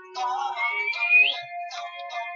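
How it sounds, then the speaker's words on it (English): A person whistles a short, clear, wavering melody up close, rising briefly to a bright peak before trailing off, with nothing else heard. "Whistled it into the sleeve."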